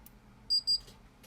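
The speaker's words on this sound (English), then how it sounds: "It should go beep beep and then the light should light." A 555 timer circuit gives two short, high-pitched electronic beeps in quick succession, sharp and clear over a quiet background.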